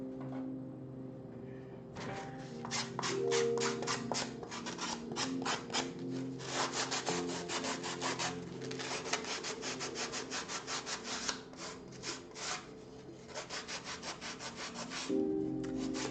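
A sanding pad rubs back and forth over carved cliff terrain for tabletop crafting, giving a steady run of close, rhythmic scratchy strokes that start and stop after a quiet pause.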